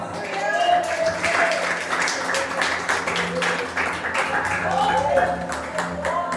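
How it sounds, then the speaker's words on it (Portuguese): Congregation clapping along during a Holy Communion church service, steady rhythmic claps filling the room under ongoing voices and a sustained musical drone. "Agora Jesus com palmas"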